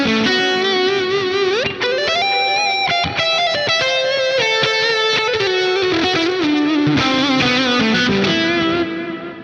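Heavily distorted electric guitar on the neck pickup through a Quad Cortex, warm and rounded, plays a fast melodic line with sustained bends, loud and up close, with no voices.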